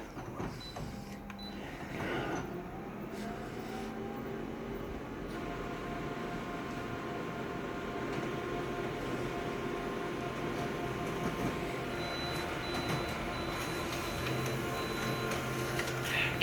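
Photocopier with a document feeder copying pages, a continuous mechanical whir and hum with rhythmic ticking and clicking as sheets pass through, moderately loud and close, no speech.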